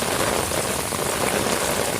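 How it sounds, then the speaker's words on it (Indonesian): Steady rain falls on an open, fertile empty plot of land, a dense even hiss with fine drop patter throughout, close and continuous. "Mulai hujan, mulai hujan, mulai hujan,"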